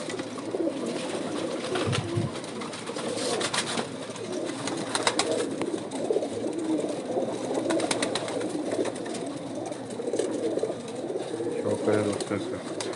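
A flock of rare 79-breed pigeons keeps up a constant low cooing and rustling, with someone talking over the birds the whole time.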